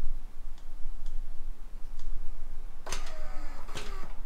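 Trunk release lock on a 2001 Mercedes CLK 230 actuating, a few faint ticks followed by a louder mechanical clunk and whirr near the end, close by, with no talk.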